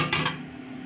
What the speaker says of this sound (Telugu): స్టవ్ ఆన్ చేసుకుందాం